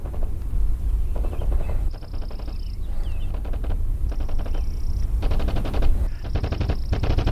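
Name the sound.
distant gunshots with echo in video game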